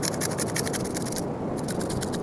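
A freshly caught fish is scraped clean at the sea, rapid rhythmic rasping strokes repeating close and steady, with a brief pause midway.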